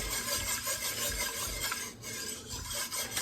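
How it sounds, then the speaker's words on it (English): A spoon scrapes steadily around a pot of dark roux for gumbo, a continuous close rasping stir with a repeating rhythmic scrape and no voices. "I'll keep stirring."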